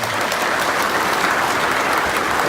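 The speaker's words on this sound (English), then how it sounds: "Okay, one final round of applause." Steady, dense applause from a lecture audience at the close of a Center of Military History talk, filling the whole stretch evenly with no voices over it.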